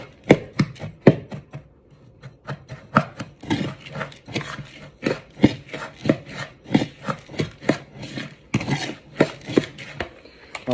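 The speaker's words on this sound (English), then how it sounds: "you're gonna use your spoon and you're gonna mix that all up" A spoon mixing brown sugar and cinnamon in a bowl for apple crisp, a close, rhythmic series of gritty scraping strokes that repeat steadily, with no talking.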